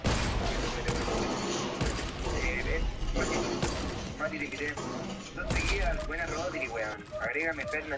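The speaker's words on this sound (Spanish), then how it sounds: "voy a mandar disparo al aire." Video game gunfire in a creative-mode minigame: several sharp shot bursts crack out over a busy background of game noise, loud and close.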